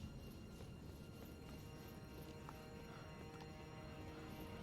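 Hooves of an enemy horse in the Elden Ring video game clop steadily in a quick, even rhythm, moderately loud and alone, with a faint neigh or whinny among the footfalls.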